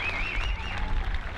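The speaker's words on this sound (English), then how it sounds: "How about a happy birthday clap to Fred right there?" A crowd at a Bend Elks vs Victoria HarbourCats baseball game claps for a fan's 90th birthday, a soft, distant patter of applause in an open ballpark with faint chatter underneath.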